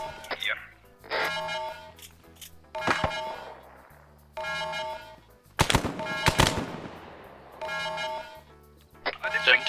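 Bursts of rapid automatic gunfire and single shots in a military tactical shooter game, loud and close, repeating in several bursts with sharp decaying echoes, people talking over it.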